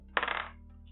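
Cheap dice roll during a tabletop role-playing game, making a single brief, light clatter on a hard surface against a quiet background.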